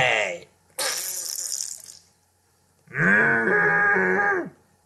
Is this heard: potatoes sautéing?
no